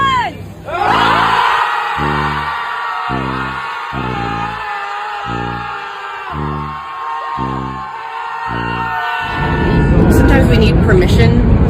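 A crowd of people screams together after a countdown, long sustained voices rising and falling, loud and close, ending in a burst of noise and cheering.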